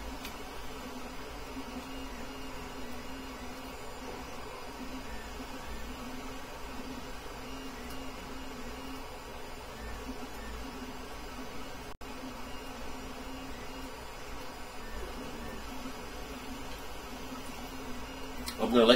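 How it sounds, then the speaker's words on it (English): An Anet E12 3D printer runs a print job with its noisy cooling fans, giving a steady, continuous whir and hum that holds at an even level throughout, close by and alone. "The fans are noisy."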